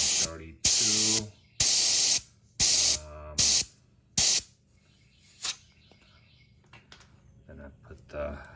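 Bursts of pressurized air hiss from a tire valve fitted with a Haltech TPMS sensor as the pressure is checked, five or six sharp, loud blasts each about half a second long, followed by quieter clicks and handling noises.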